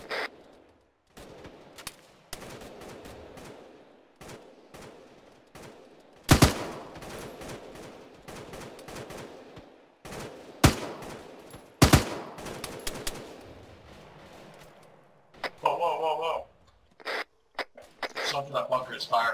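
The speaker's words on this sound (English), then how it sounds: "I think I got incoming fire from the bunker." Heavy incoming gunfire from a bunker during Operation Black Raven: sharp, loud cracks and short bursts scattered across a quiet background, with people talking between the shots.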